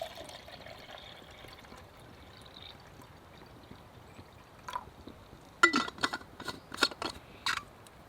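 River water is poured at a campsite, a quiet stretch followed by a series of splashing, gurgling bursts near the end.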